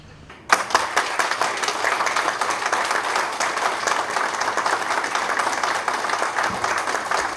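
A large crowd in a meeting hall bursts into loud, sustained applause and chorused cheering as a head of state enters, starting abruptly after a quiet moment and continuing steadily.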